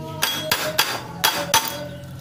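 Sharp metal-on-metal hammer strikes on an impact screwdriver against the cam chain tensioner of a Yamaha Jupiter MX motorcycle engine, five close, loud blows in an irregular rhythm, each ringing briefly.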